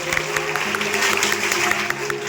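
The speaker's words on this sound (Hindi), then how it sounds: "विद्वान अग्रजों बड़े भाइयों के लिए एक जोरदार तालियां बजा दीजिए।" An audience at a college seminar hall claps together in a dense, continuous patter of applause, with a low steady hum underneath.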